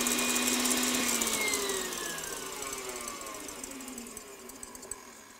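An electric rotary beater whisks egg whites with sugar for meringues in a bowl, a steady motor whir that slowly falls in pitch and fades, with faint clicks near the end.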